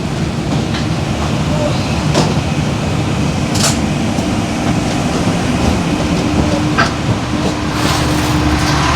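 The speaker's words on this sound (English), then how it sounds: "We're about to get off the bus." A Skybus airport shuttle pulls into Southern Cross Station in Melbourne as passengers get off: a loud, steady interior rumble with a few sharp thumps and clatters from doors and luggage, and faint voices mixed in.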